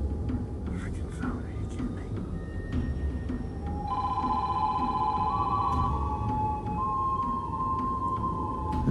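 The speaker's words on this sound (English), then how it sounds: "it's the phone, for God's sakes." A telephone rings in a room behind a World of Warships match, a steady electronic tone that grows stronger midway and holds for several seconds, accompanied by a faint background voice and game sounds.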